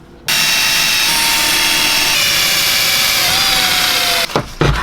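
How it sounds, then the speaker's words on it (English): A power drill bores through a King Air 350 window shade bracket and the mounting bracket behind it, a loud, steady whine running nearly unbroken for about four seconds before stopping abruptly, followed by brief handling noise. "I'm gonna drill through this in all 4 places, hitting the window shade bracket, the mounting bracket behind it"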